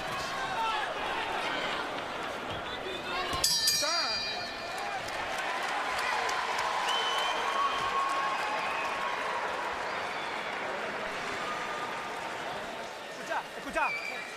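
Boxing crowd at the Sergio Martinez versus Kelly Pavlik fight cheering and applauding Pavlik, a steady roar of clapping and voices filling the arena, with a louder burst near the start.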